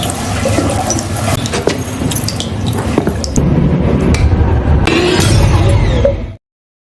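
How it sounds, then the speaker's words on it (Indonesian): A water tap turns on by itself, splashing and running steadily nearby with scattered drips and clatters, then cutting off abruptly into silence. "keran air yang tiba-tiba menyala dengan sendirinya"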